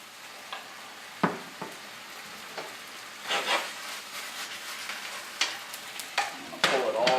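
Scratch-made marinara sauce poured into browning ground turkey in a hot pan, with a steady close sizzle, scraping stir strokes and brief clattering bursts, no talk.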